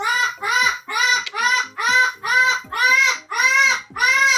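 A green parrot at the Alveus sanctuary calls over and over, about eight loud, harsh squawks in a steady rhythm, close by.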